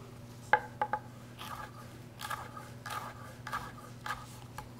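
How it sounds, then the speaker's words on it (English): A knife cutting a pepper into thin julienne strips on a board, giving faint rapid chopping taps in short runs over a steady low background hum. "Get a nice thin julienne cut on it."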